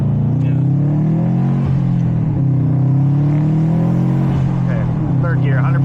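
A 2015 Subaru STI pulls hard in third gear at full throttle, its engine droning loud and steady as pitch climbs through the run, with a voice speaking over it.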